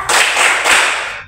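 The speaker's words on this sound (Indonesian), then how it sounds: "Coba tepuk hebat untuk Gisel." Classroom students doing a quick rhythmic clap cheer together, two loud, sharp bursts of clapping close by, fading at the end.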